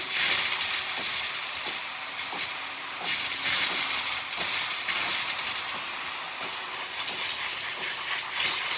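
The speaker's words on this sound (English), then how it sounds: "Nice steady steam coming out of the machine." Loud, steady hiss of steam jetting from the steam wand of a DeLonghi Magnifica espresso machine, continuous throughout with faint crackling flutter.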